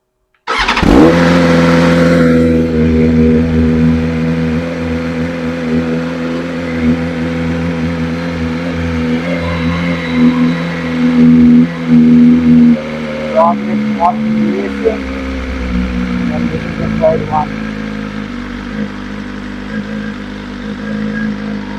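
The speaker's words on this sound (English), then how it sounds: "I'll fire up the motorcycle and then let's see what you guys think" A BMW M1000RR motorcycle engine with aftermarket exhaust fires up and idles with a deep, throaty exhaust rumble, then gives a few short revs, loud and close.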